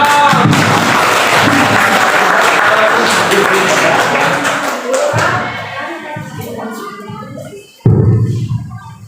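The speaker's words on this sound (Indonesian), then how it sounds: "Tepuk tangan." Loud applause from an audience at a school dissemination event at SMA Negeri 1 Pasir Santri, dense clapping that fades over several seconds, followed by a sharp thump and quieter noise near the end.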